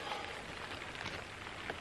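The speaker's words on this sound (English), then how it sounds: "It's absolutely pissing down." Steady, dense hiss of heavy rain pouring down on a bothy in the Cambrian Mountains of Wales, an unbroken wash of sound with no voices.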